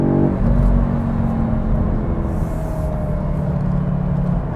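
A 2022 Audi S3's engine hums steadily after a downshift while driving on a smooth road, a sustained droning rumble with rising tonal whine over road noise, heard from inside.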